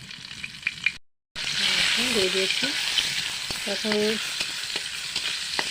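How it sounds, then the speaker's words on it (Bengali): Slit green chillies sizzle and fry steadily in hot oil with garlic, a loud continuous crackle that runs on after a brief cut, while a voice speaks briefly over it. "এখন আমি দিয়ে দেবো এর মধ্যে কিছু কাঁচা লঙ্কা পাকাতা চেরা"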